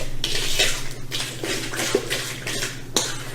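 Vanilla and eggs are mixed in a bowl, with repeated clinking and scraping of a utensil against the bowl in an uneven rhythm of about five or six strokes, close and fairly loud.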